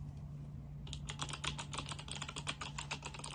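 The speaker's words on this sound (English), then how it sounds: "it's got a full size or like a full switch mechanical keyboard" Close, quick typing on a mechanical keyboard with regular full-size switches: a dense run of crisp clacking keystrokes begins after a short quiet moment and continues steadily, with no talking.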